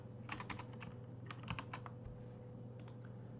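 Keys clatter in short quick bursts on a computer keyboard while someone fills in a template field. The typing is faint and close, heard over a steady electrical hum.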